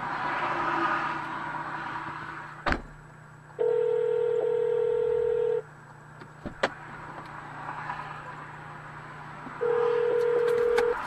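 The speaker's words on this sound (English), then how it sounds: "Calling emergency services." A car's hands-free phone system dialing emergency services: a steady electronic tone sounds, then a sharp click, a longer beep, another click, and finally a further tone over low cabin road rumble, with no one speaking.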